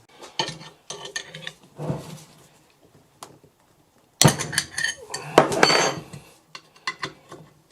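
Allen key bolts being removed from the turbocharger of a BMW 320d E90/E91 during a turbo rebuild, producing scattered metallic clicks and clanks of tools on metal, with a denser burst of rattling partway through and no talking.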